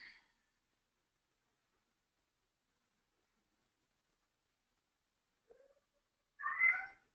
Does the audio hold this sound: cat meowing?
yes